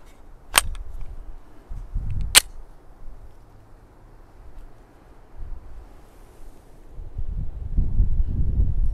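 A Glock 36 sub-compact .45 ACP pistol firing on an outdoor range, with two sharp, loud reports a couple of seconds apart, then wind rumble and faint handling noise.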